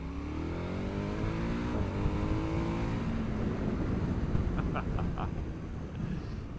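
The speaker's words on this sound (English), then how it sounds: "I've got to start with the engine and the noise." Engine of a 2022 KTM Super Adventure S motorcycle, a steady loud drone with rising harmonics as it revs, continuous and close throughout.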